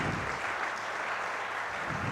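An audience claps continuously at an award ceremony during an annual international conference, a dense, even wash of applause from a large crowd with no voices on top.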